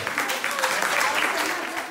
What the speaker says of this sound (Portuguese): Uma salva de palmas para as duas.